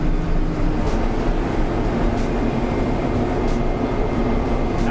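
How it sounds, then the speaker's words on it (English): A 1996 Stewart & Stevenson M1086 military truck drones steadily in seventh gear at about 40 mph, its engine roaring continuously with a faint high turbo whistle rising and falling above the rumble. "You can hear the turbo, watch."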